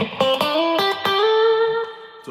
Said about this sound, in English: Once you add the compression in, it sounds like this.